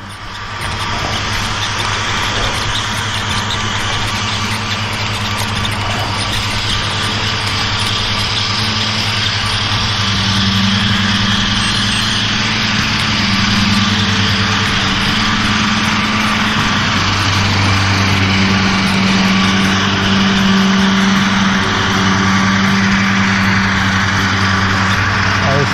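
A lawn mower engine drones steadily and loudly throughout, met along a mountain-bike trail near caves and castles, with a continuous mid-pitched hum and wind-like rush that swells slightly in the latter half.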